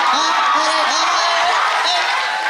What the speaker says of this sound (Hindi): अरे तालियां बजाओ ना